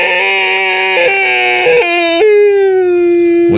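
A human voice imitates a hurt beast howling like a sad, injured dog during a tabletop role-playing game, one loud drawn-out wavering howl that bends and falls in pitch, heard alone.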